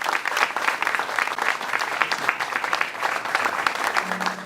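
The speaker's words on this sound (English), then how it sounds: "A round of applause for Jumoke" Steady applause from a crowd, dense clapping sustained throughout at an even, fairly loud level.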